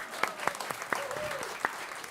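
Scattered applause from a small audience at a Climate Week NYC talk, a handful of distinct claps spread over a couple of seconds, fairly close and moderately loud.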